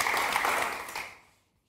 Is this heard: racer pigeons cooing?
no